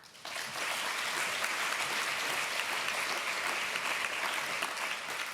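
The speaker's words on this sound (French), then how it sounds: "je pense que vous pouvez vous applaudir" Audience at a business anniversary speech breaking into applause, a dense sustained clapping that swells in quickly and stays steady and full, with no talking over it.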